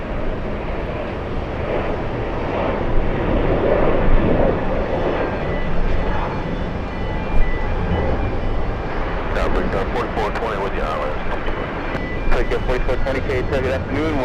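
A JetBlue airliner in special livery lining up at JFK airport for a flight to Cancun gives a steady, broad jet roar that fills the whole stretch, sounding moderately distant and blending with wind noise.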